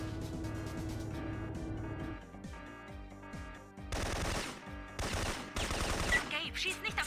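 Bursts of automatic gunfire from the PlayStation 1 game Syphon Filter, rapid rattling volleys sounding over game music and effects, with a quieter stretch before heavy firing returns.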